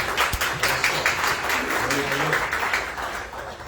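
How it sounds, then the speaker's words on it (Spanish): Church congregation applauding for fathers during a Sunday sermon, a steady wash of clapping filling the hall for several seconds with faint voices mixed in. "Vamos a darle un aplauso a todos los padres"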